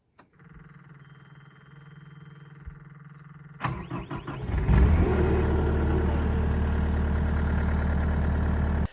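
A skid steer recovered from a sinkhole whirs through several seconds of starter cranking, then its engine catches with a roar and runs steadily and loudly up close.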